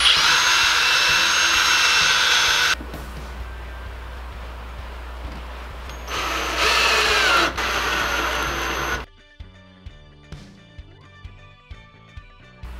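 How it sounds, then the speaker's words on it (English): A power drill bores holes in bookcase boards with a loud whirring drive, a lower-pitched pass, and another burst, then stops, leaving a few light knocks and clicks near the end with no voices. "I'm going to drill out these holes"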